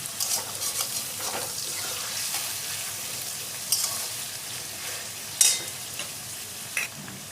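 Carrots and onions with ginger and garlic frying in a pan for egg chicken pasta, a steady close sizzle with intermittent spoon stirring and a few sharp clicks, no talking.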